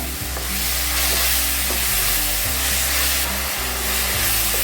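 Banana pieces fry in hot ghee for banana balls, giving a loud, close, continuous sizzle with a broad hiss and occasional stirring sounds, no voices.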